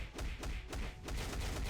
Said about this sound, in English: Oh, did we still get that explosion at the end?